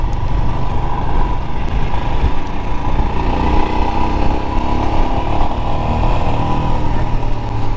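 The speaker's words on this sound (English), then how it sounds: "Yeah, it's a single thumper as well." A Royal Enfield Himalayan single-cylinder motorcycle drones steadily and loudly while being ridden, its engine thrumming low and continuous with wind rush and no talk.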